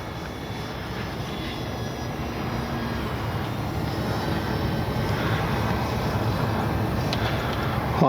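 Dynam Beaver V2 RC airplane motor at half throttle, a steady whirring buzz in flight, moderately loud and continuous with broad airy noise, slowly swelling toward the end, no voices.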